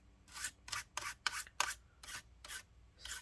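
Dust rubbed off the internal parts of an HP EliteBook 840 laptop near the fan: about eight short, rhythmic brushing strokes, close and fairly quiet, with no speech.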